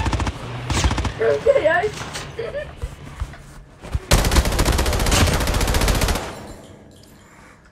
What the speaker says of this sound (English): Somebody is shooting! No, that's me!